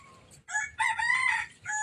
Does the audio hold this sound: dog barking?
no